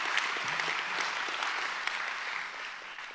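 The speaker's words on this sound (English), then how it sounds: "That's an applause moment." An audience at a charity vision banquet applauds, a broad steady wash of many hands clapping at moderate loudness, sustained throughout before easing slightly at the end.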